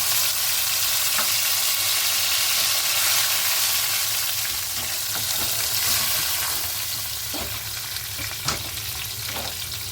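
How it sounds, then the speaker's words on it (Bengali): Loud, constant sizzling of tomato and onion paste frying with spices in a hot pan, with occasional scraping and clicking from stirring. "আগে থেকে পেস্ট করে রাখা টমেটো আর পেঁয়াজ বাটা এর মধ্যে অ্যাড করে দিলাম"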